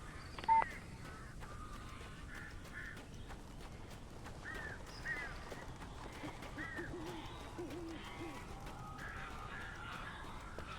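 Crows cawing in the video game Alan Wake, scattered harsh calls repeating across the stretch at moderate distance over a steady eerie ambient bed.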